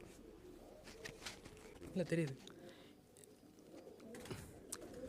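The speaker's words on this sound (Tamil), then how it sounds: "இது வந்து ஜெர்மன் புறா இதுக்கு பேர் ஸ்டாட்கார்டு ஷேக்கர்னு பேர்" A German Stuttgart shaker pigeon, an ornamental fancy breed, coos softly in a short low burst while a person talks nearby over faint background bird calls.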